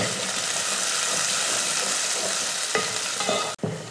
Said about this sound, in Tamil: எண்ணெய் காஞ்சமே கொஞ்சம் வெந்தயம், கொஞ்சம் கருவேப்பிலை, 100 கிராம் அளவுக்கு சின்ன வெங்காயம்,